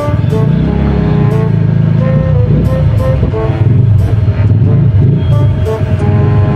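A dump truck and a jeepney pass on a city road in Iloilo: loud, steady diesel engine drone with rumbling low tones and shifting harmonic whine, close by and continuous, with traffic noise around it.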